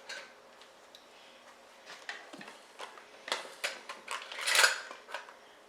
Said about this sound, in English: Let me get the measuring cups.